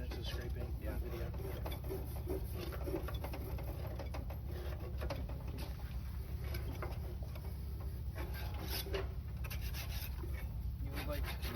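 Rust is scraped off a Char Griller grill in repeated rough, rasping strokes at an uneven rhythm, set against a constant hum of background noise.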